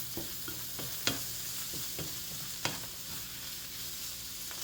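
A spoon stirring roasted red pepper pasta sauce with sausage in a pan, soft scraping strokes over a steady sizzle, with a couple of sharper clinks against the pan.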